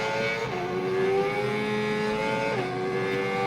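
A racing video game car engine drones at high revs during a race, its steady whine dropping in pitch with gear shifts about two seconds apart, loud and continuous with no speech.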